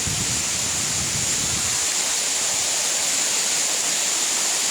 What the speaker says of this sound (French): Je vous laisse visiter notre petite cascade.